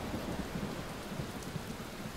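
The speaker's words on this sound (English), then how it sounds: "I hear rain." Steady rain in the video game Pyre, a dense soft hiss with low rumbling underneath, continuous and fairly faint, with no talking.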